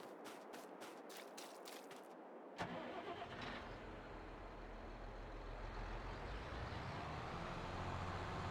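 A John Deere tractor engine in the Farming Simulator 22 video game, heard after a sharp start-up onset as a steady mid-pitched engine hum that grows slightly louder toward the end, with rhythmic clicking beforehand.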